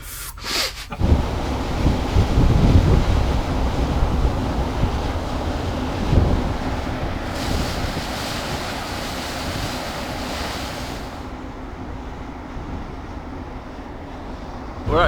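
Calm sea waves washing past a boat cruising at about 20 knots, mixed with steady wind buffeting the microphone; a continuous rushing surge, briefly louder early on, with no clear talk.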